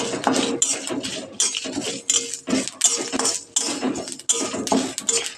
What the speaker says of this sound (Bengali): তো সেটাকে আমি শুকনো কড়াইয়ের মধ্যে ভেজে নিচ্ছি